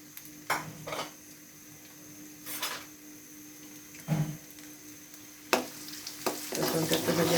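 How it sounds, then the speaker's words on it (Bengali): Chopped garlic fries in oil for jujube pickle, a low steady sizzle broken by intermittent scraping stirs and clinks of a utensil against the pan. "রসুনটা একটু ভেজে নিই।"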